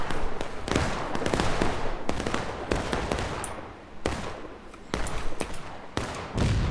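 Musket volleys from a Civil War battle in War of Rights crackle as continuous, overlapping gunshots, some near and sharp, others distant, forming a ragged independent fire that thins briefly before picking back up.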